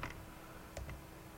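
Computer keyboard typing: a few sparse, faint key clicks in a quiet room, with short gaps between the taps.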